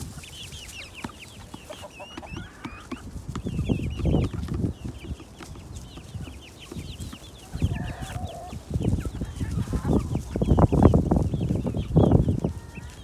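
Chickens clucking and murmuring nearby, with a rooster among them and bursts of louder cackling that swell and fade, plus light background rustle.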